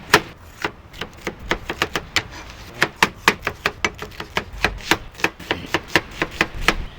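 Knife chopping bell peppers, jalapeño and onion on a board, crisp evenly spaced strikes in a fast steady rhythm, close and clear with no talk.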